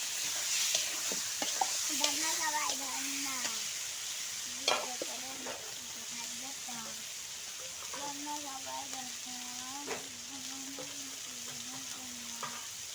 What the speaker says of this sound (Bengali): ঢাকনা তুলে আবার একটু নাড়াচাড়া করে দেব, নিচে যেন ধরে না যায়